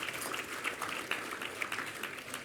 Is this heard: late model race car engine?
no